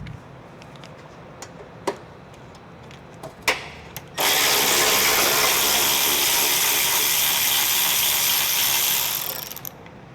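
A ratchet works a bolt off the passenger-side fender of a 2020 Honda Odyssey, with a few sharp clicks at first, then about five seconds of loud, continuous rapid ratcheting that stops.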